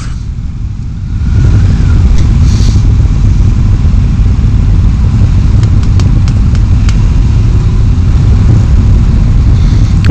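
A crowd of motorcycles rumbles past at a bike gathering, a loud, dense and continuous engine roar that swells after the first second and holds, with occasional faint high clatters on top.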